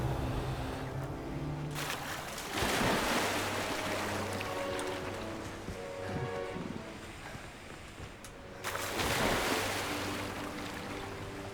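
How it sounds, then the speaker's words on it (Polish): A waterfall in the video game Hogwarts Legacy makes a steady, broad rushing wash of water that swells louder twice and fills the background without a break. "Wodospad."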